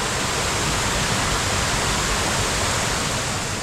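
Mayang Falls, a waterfall on Conchu Road in Trece Martires, Cavite, rushes in a steady, loud, broadband roar that holds unbroken from start to finish, with no voices over it.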